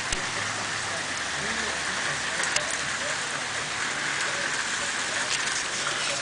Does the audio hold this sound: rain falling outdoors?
yes